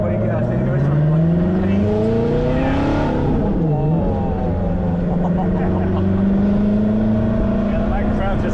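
A Ferrari F430 engine revving from inside the car, rising and falling through the revs in a loud sustained drone with a dip midway, while occupants talk over it.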